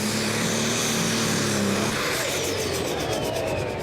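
Diesel superstock pulling tractor at a Eurocup tractor pulling event in Brande, Denmark, its engine roaring loud and continuous at full power, the pitch sweeping as it pulls away, with no talk.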